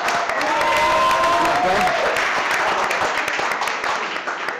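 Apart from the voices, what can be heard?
audience applause for pastry chef Paul Boucher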